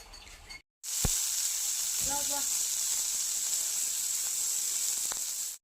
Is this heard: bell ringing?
no